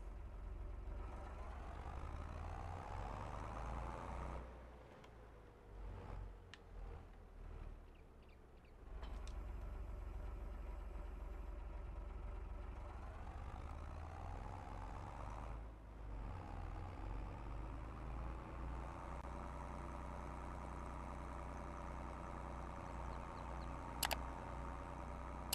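A tractor engine runs steadily in Farming Simulator 22, a loud continuous low rumble that dips briefly, then returns and holds, with a short click near the end.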